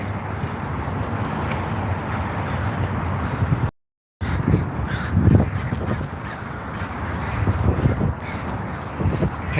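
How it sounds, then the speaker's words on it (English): Crows cawing over a noisy downtown Portland street protest, the calls rising intermittently above a dense, steady wash of crowd and city noise, with a brief dropout partway through. "The crows are gathering."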